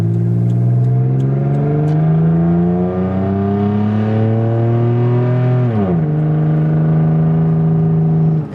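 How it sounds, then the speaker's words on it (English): A Toyota 4Runner engine revs hard through a Flowmaster exhaust, loud and close, its pitch climbing steadily, dipping sharply near the end, then holding a high steady drone. "I think it sounds a little bit more aggressive than it used to with the Flowmaster on"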